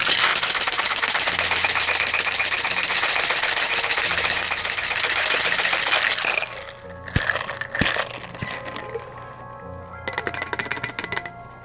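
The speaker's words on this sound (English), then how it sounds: "with some ice in your shaker, and give it a shake" Ice rattles hard and fast inside a cocktail shaker for about six seconds, mixing a non-dairy white Russian. Then come a few scattered clinks and knocks as the shaking stops.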